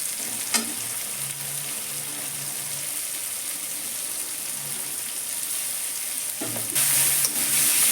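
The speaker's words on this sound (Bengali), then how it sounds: "মটরশুঁটি পেঁয়াজ টমেটো ক্যাপসিকাম সবই ভাজা হয়ে যাচ্ছে এবার আমি আদা রসুনটা দিয়ে দেবো" Ginger, garlic, peas, onion, tomato and capsicum fry in a pan while fish curry is being made, a steady broadband sizzle throughout, with a couple of sharper stirring scrapes near the start and end.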